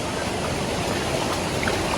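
Clear river water rushes and flows steadily at close range, a continuous broadband wash with no gaps.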